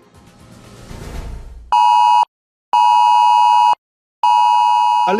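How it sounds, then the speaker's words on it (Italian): Loud electronic alert tone from mobile phones during an IT Alert civil protection test in Calabria, sounding as three long steady beeps separated by short silences, preceded by a noisy broadband wash. "sui telefonini dei calabresi è apparso un messaggio di allarme, un avviso sperimentale lanciato da IT Alert"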